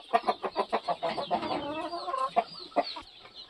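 Several hens with a Hamburg rooster clucking close by in short repeated bursts, a rhythmic run of clucks followed by a longer warbling call, with no talking.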